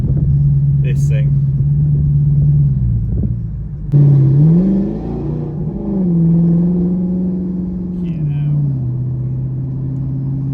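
An Audi R8 fitted with a Quicksilver exhaust rumbles along in normal driving, heard from inside the car with a low engine drone that shifts in pitch as speed changes, while someone talks over it.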